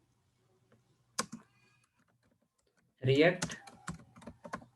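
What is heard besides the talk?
typing on a computer keyboard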